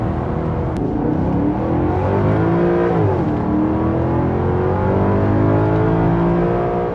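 A Maserati GranTurismo MC Sport Line coupe engine revs loudly and continuously up close, its pitch rising and falling as the throttle swells and eases, with no talking.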